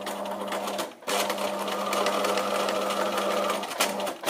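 A sewing machine stitches a rounded pocket, running in a fast steady whir that stops briefly twice, including short back-and-forth stitching at the start, close and clear.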